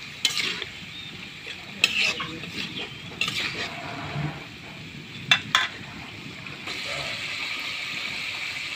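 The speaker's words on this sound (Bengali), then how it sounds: "এখন ধুয়ে লোয়া মাছগুলো এর মধ্যে দিয়ে দেবো, দিয়ে আবারও মশলার সাথে কিছুক্ষণ কষে নেব।" Washed shing or kanch fish frying in a pan with spices for a thin curry, a steady sizzle broken by repeated clinks and scrapes of a spatula stirring against the metal.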